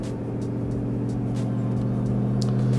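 A BTR Stage 3 LS3 Camaro running E85 pulls in third gear on a dyno, its V8 giving a loud, sustained droning roar that climbs steadily in pitch, with some sharp ticks and clatter in the shop, no voices.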